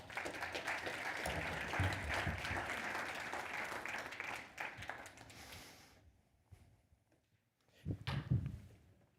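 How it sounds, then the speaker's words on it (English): A conference audience gives a round of applause as a guest walks on stage, a full burst of clapping that fades out after about six seconds, followed by quiet and a brief shuffle or knock. "Give him a round of applause"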